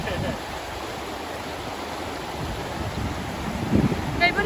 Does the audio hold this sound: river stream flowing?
yes